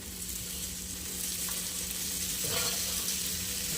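Okra sizzling steadily as it fries in a pan for an Indian fasting-day bhindi dish, a constant close crackle with a brief stir near the end and no talking.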